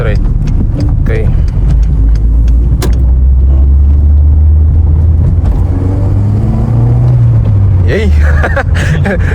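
Light VW Citi Golf hatchback accelerating hard through the gears, a strong low engine drone rising in pitch close inside the cabin, with excited voices talking and cheering over it.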